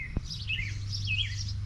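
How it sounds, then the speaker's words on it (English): Small birds chirp and twitter in short, quick phrases over a low steady hum, with a single faint click near the start. "My goodness, the birds are so loud."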